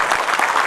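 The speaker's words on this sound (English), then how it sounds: "Big round of applause, please." A live audience at an Indian life and business coaching event claps in a steady, dense burst of applause, loud and close, with no voices standing out over the clapping.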